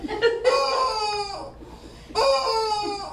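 A toy chicken lets out two squeaky, drawn-out clucking squawks, loud and close, separated by a brief pause.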